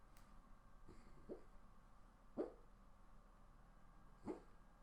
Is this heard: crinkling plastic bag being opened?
no